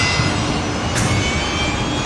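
Loud, continuous jet engine roar of a Qantas airliner taxiing at Brisbane Airport, close and steady with a whining high tone.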